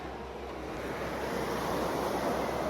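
Ocean waves breaking and washing ashore at Cabo, Mexico, a steady broadband surf roar that swells slightly louder toward the end, with some wind buffeting the microphone and no voices.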